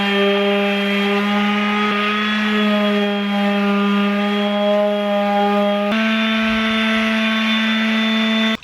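DeWalt DCW200 quarter-sheet palm sander rounding over a corner of wooden deck railing, a loud steady buzzing hum with a strong tonal whine, shifting pitch once as the load changes, then cutting off at the end.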